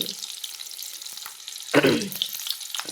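Pointed gourd frying in hot oil, a steady soft sizzle with a sharper burst of spattering and pan scraping partway through, close by with no talking.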